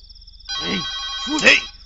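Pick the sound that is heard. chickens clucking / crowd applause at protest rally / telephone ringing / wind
telephone ringing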